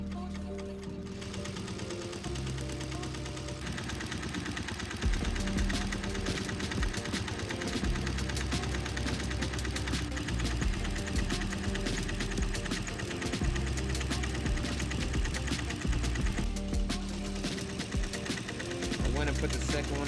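A Tajima embroidery machine stitches 3D puff text onto the side of a New Era hat using black thread over black puff foam. The needle gives a steady, fast rhythmic clatter that stays close and continuous, and a voice talks over it.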